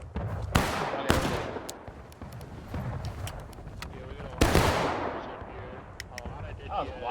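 Gunfire crackles in a multiplayer video game battle, with sharp close shots and echoing blasts spread irregularly over a rumbling backdrop, while players call out under the noise.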